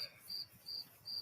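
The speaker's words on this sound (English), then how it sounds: "You got the crickets in the background." Crickets chirp faintly in the background, a high-pitched trill repeating in a steady rhythm about three times a second, with no other sound over it.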